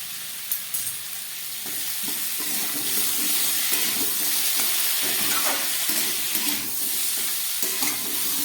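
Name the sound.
frying spices with chili powder and ginger paste in pan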